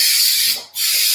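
A nearly empty can of 3M spray adhesive shooting out a steady, loud hiss that briefly drops away for a moment before resuming.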